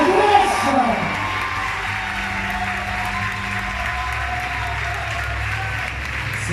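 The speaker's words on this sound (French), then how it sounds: "On les applaudit." Steady audience applause fills a pageant hall at the Miss Lens contest, a sustained even clapping from a large crowd with faint cheering.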